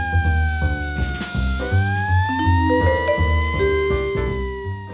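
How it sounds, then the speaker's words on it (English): A police car siren wails loudly and close, its rising and falling tones sliding over a low engine rumble as the vehicle passes, with no talking. "as the police siren stops"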